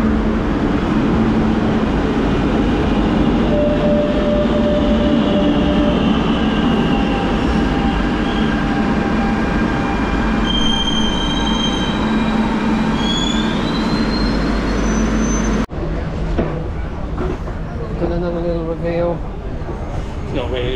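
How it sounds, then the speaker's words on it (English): A metro train rumbles loudly into Passeig de Gràcia station in Barcelona with squealing, whining wheels and brakes, then the noise drops as it slows; voices talk over it throughout. "I love a shot of a train coming onto a platform."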